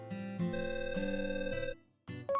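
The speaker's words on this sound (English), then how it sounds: "Suddenly, I got a phone call." A phone ringtone plays as a short electronic melody of several sustained tones in steps, with a brief pause and then a new tone starting, faint and heard alone in an animated manga dub.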